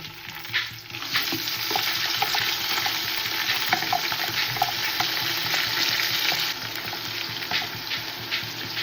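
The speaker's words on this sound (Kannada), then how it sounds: "ಇದು ಒಂದು 2 ನಿಮಿಷ ಹಿಂಗೆ ಫ್ರೈ ಆಗ್ತಾ ಇರಲಿ ಆ ಎಣ್ಣೆಲಿ" Ground masala paste of greens, mint, ginger and garlic frying in oil for a chicken tandoor biryani gravy gives a steady, close, dense sizzle with small crackles, continuing without pause and with no talk.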